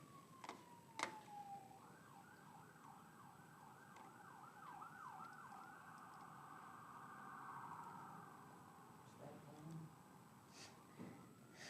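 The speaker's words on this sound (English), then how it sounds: "You got to get used to all the sirens, you know." A siren wails in the distance outside a lecture hall, rising and falling in a steady cycle for several seconds before trailing off, with faint background noise around it.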